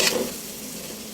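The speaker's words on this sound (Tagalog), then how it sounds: "Pakuluan pa ho natin ng konti at igisa itong ating laman loob" Offal sizzles in a pan as it is sautéed and stirred for papaitan. A brief scrape of stirring comes at the start, then the frying hiss continues on its own.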